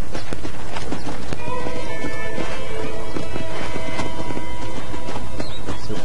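Horse hooves clip-clopping in the video game Red Dead, a steady, close, loud rhythm of hoof beats running throughout with no talk.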